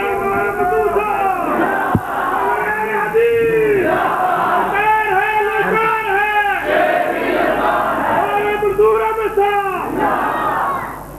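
A large crowd at a religious rally chants slogans in unison, loud and rhythmic call-and-response bursts repeating throughout.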